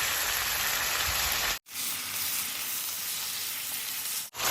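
Cabbage frying in a pan for fish-sauce fried cabbage, a dense close hiss of sizzling oil broken by two sharp cuts, steady and without talk.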